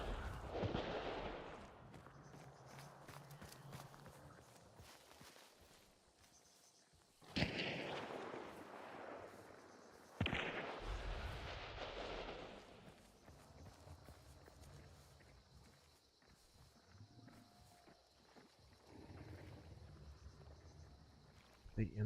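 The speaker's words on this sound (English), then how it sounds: "Yep, that's a shotgun." A shotgun fires in the video game Hunt: Showdown, two sharp, loud blasts a few seconds apart that cut through the game's ambient rumble while players talk over it.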